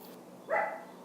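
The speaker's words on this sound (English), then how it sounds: "please excuse my dog" A single short bark from a dog indoors, moderately loud and slightly distant, against quiet room background.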